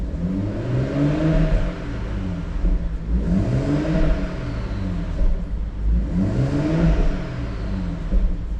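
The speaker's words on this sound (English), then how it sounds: "we can hear the turbo just settling back down again" A manual BMW F20 M140i engine revs up through the gears with a rising, whirring drone, then eases off as the turbo winds down, repeating in steady cycles.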